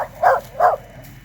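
A dog on a forestry mulching job site barks twice in quick succession, loud and close, with no speech.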